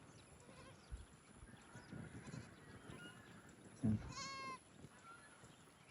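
A goat on a farm gives one wavering bleat partway through. It is fairly near but brief, over faint outdoor background noise, and a person says a single word just before it.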